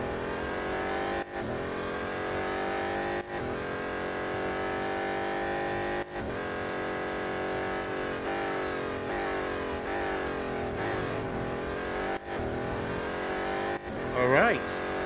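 BMW M Hybrid V8 race cars in Real Racing 3, a sustained high engine drone with shifting pitch as revs rise and fall, brief gearshift dips, and a short squeal near the end.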